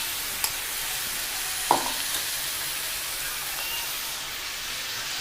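Chicken frying in a pan with turmeric and salt gives a steady, close sizzle, with a couple of brief clanks as it is stirred.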